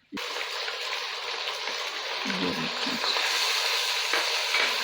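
Onions with garlic and ginger paste sizzle steadily in a hot pan, a continuous bright frying hiss with a few soft stirring scrapes.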